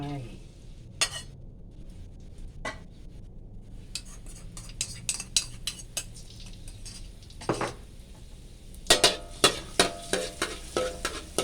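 Garlic frying in a little oil is stirred in a pan: a sizzle runs under scattered metallic scrapes and clinks of the utensil, with a louder burst of stirring near the end.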